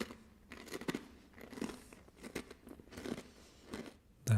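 Someone bites into and chews a crunchy snack seasoned heavily with tomato and herb flavoring, giving a series of close, crisp crunches spread across the moment, with no talking.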